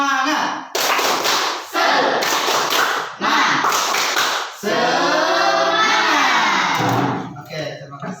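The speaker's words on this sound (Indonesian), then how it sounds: "Oke, kita tepuk semangat sama-sama ya." Students stand and do a rhythmic group tepuk semangat clap in a classroom: bursts of sharp hand claps in patterned rhythm, a few pauses between bars, then voices chanting and shouting together toward the end.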